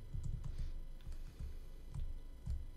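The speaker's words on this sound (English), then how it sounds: "you're probably hearing me keyboard and everything because I can't play with a controller" Quiet, steady typing on a computer keyboard, with soft low key thumps and clicks in an uneven rhythm and no talking.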